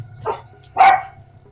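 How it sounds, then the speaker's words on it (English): A pet dog barks twice indoors, a short bark followed by a louder, sharper one, close by over a low steady hum. "oh, sorry, my dog"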